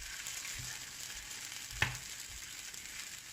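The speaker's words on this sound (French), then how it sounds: "Donc nous allons commencer la cuisson des samoussas." Beef and bell pepper samosas frying gently in a shallow layer of oil in a pan, a soft steady sizzle with one brief louder pop partway through.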